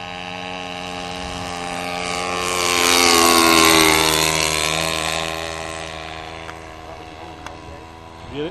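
A Nieuport 17 biplane flies low down the runway at about head height, its droning propeller engine swelling loud as it passes close by and then fading away.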